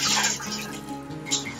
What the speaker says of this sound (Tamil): கொஞ்சம் தண்ணி ஊற்றி கரைச்சி